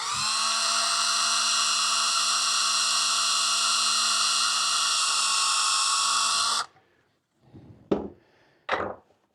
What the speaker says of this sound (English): we're going to drill a hole through the back